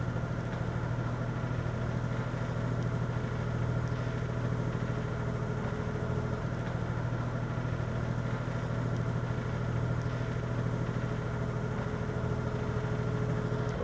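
Boat engine under throttle while an Ultra anchor is set, a steady droning motor hum with a low rumbling tone, constant throughout with no talk.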